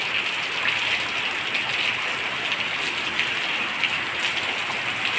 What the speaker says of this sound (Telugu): వర్షం అనేది చాలా బాగా పడుతుంది ఫ్రెండ్స్